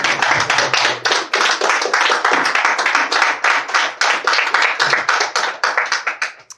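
A church congregation claps together in praise of the Lord, a loud, steady run of quick rhythmic handclaps that fills the room and carries on without pause before tapering off at the very end.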